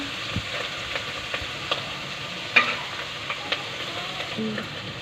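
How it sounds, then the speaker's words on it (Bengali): Onion paste fries in hot oil in a cooking pot for a chicken roast, giving a continuous close sizzle with scattered light ticks and pops from stirring. "ভাজা তেলের মধ্যে হচ্ছে পেঁয়াজ বাটা দিচ্ছে"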